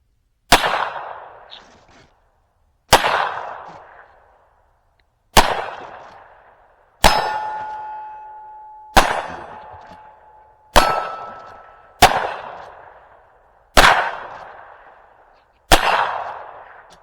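Nine sharp shots from a .22 WMR repeating rifle fired at steel targets outdoors, spaced about two seconds apart, each a loud crack with a ringing metallic ping and decaying tail, some with a sustained steel ring.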